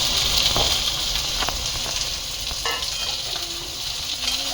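Wet chili and curry leaves sauté in a pan over a low gas flame. A loud, steady sizzle continues throughout, with a few faint scrapes of stirring.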